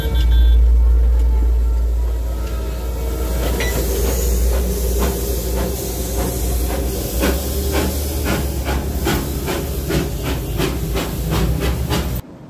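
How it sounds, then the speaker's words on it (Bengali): The Darjeeling toy train rounds Batasia Loop with a loud hiss of steam up close, followed by a steady series of rhythmic chuffs that grow more distinct as it moves along. "এটা হলো 3 টয় ট্রেন। আমরা বাতাসিয়া লুপ করছি।"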